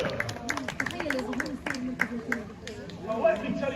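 An audience claps for a sea lion named Marvin leaving the stage at a Flamingo Land sea lion show. A scattered, moderately loud patter of hand claps runs throughout, mixed with someone talking over a PA and crowd chatter.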